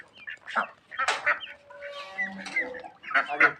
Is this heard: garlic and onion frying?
no